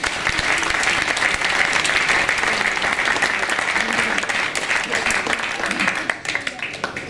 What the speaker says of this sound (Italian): Facciamo un applauso a lui.